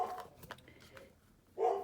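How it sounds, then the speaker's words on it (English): A pet dog barks indoors at home, a few faint short yaps spread across a quiet room, with one louder sharper bark near the end. "so now my dog is barking, demanding that my brother pets her."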